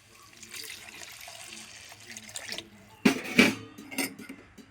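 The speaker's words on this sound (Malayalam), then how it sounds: "ഇതിലേക്ക് ഇനി ആവശ്യത്തിന് വെള്ളം ഒഴിച്ചു കൊടുക്കാം" Water splashes into a metal pan of fish-head curry gravy in a short burst after quieter kitchen sounds, with clinks of the pan.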